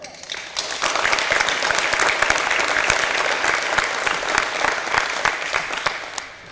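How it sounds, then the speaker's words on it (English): Crowd at a high school softball team's welcome-home gathering applauds steadily, a dense, even wash of clapping that swells quickly and holds for several seconds before trailing off, without speech over it. "I just want to give a round of applause to her"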